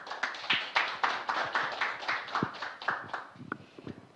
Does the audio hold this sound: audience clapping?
yes